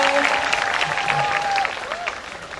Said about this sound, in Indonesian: Ayo tepuk tangan, kasih semangat biar tambah ramai.